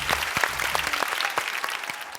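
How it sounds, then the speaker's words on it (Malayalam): A crowd at a singing competition bursts into lively applause for Rupesh and Reji, with crisp, close claps over faint low background music. "അപ്പം രൂപേഷിനും റെജിക്കും ഒരു ഉഗ്രൻ കൈയടി."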